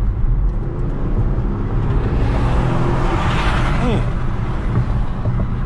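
A 2014 Ford Taurus SHO accelerating hard in traffic, a loud, continuous engine roar with road noise from inside the cabin, a brief voice heard over it.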